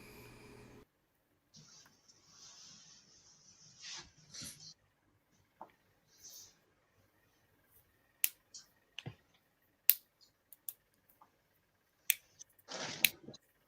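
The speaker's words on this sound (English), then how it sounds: "when you snap your fingers like that, it does something weird to my ears." Finger snapping in a quiet room at an improv workshop: a series of sharp, isolated snaps and clicks spaced irregularly, mostly alone, with faint voices and rustling early on.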